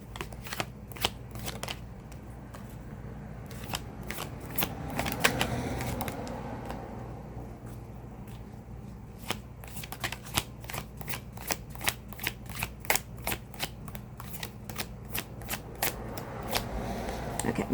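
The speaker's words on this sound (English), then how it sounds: "I'm just using my Rider-Waite Tarot." Rider-Waite tarot cards are shuffled in a quiet room, with repeated crisp riffling snaps and soft sliding, steady and close, brief pauses between bursts.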